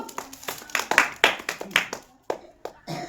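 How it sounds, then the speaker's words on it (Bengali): A small group claps hands together at a children's prize game, giving a quick run of sharp, uneven claps close by that tapers off over a few seconds. "সবাই ধরে একটা হাততালি দিয়ে দাও"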